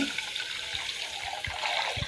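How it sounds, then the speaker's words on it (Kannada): Water pours steadily into a container of washed rice for soaking, a continuous close, splashy rush with a few soft thuds. "ಈಗ ನಾನು ಇದಕ್ಕೆ ನೀರು ಹಾಕ್ತಾಯಿದ್ದೀನಿ"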